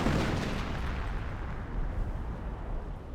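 In Company of Heroes, an artillery barrage lands as a heavy, rumbling explosion that rolls and decays over a few seconds, loud at the start and fading into a sustained low roar with a slight second swell.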